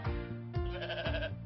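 Three sheep bleats in a row, loud and close, each a short wavering call with small gaps between, with no other sound.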